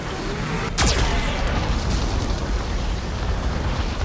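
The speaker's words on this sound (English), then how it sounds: "Warning, Geth cannon is locking on our location." A Geth cannon blast in Mass Effect 2 lands with one sharp, loud explosive crack about a second in, then gives way to a sustained roaring rumble that fills the rest of the moment.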